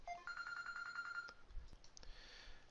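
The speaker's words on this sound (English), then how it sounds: "my phone is just ringing off the hook" A phone rings in a quiet room, a short run of repeated electronic chirping tones followed by a couple of faint clicks and soft handling sounds.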